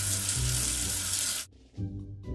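Water runs steadily over a soapy letter in a children's alphabet game, then cuts off abruptly, followed by brief softer splashes.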